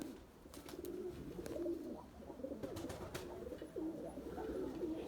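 Tumbler pigeons coo steadily near the coop, giving a continuous low, murmuring call at moderate distance.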